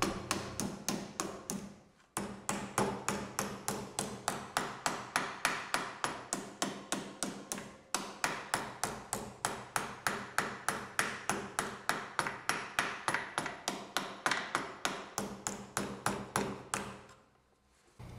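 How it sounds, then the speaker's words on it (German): A light hammer flanges sheet metal over a wooden form with a long run of quick, evenly spaced ringing metallic blows, loud and close, pausing briefly twice and then stopping near the end. "Es empfiehlt sich, einen leichten Hammer zu verwenden, denn auch hier gilt weniger Kraft und lieber viel Schläge."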